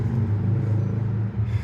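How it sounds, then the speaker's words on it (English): Steady low road rumble inside a moving 2020 BMW X3 G01, a continuous cabin drone with a brief dip near the end, no talking. "Sorry for the road noise,"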